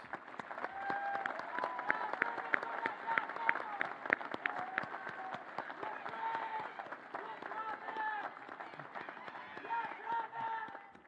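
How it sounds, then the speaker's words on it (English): Applause from a crowd honoring graduates at a college commencement ceremony, a steady dense wash of clapping running throughout with voices mixed in. "Give them a big round of applause."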